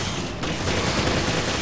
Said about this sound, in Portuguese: Mas é bom ficar com a metralhadora aí.